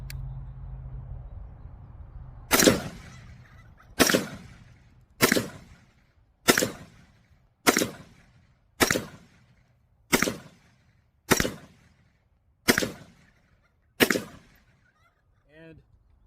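An SKS rifle fires ten rounds of 7.62x39 ammunition in a steady, evenly spaced string. Each sharp, loud report is followed by a short echoing decay, and a faint low hum sits in the background.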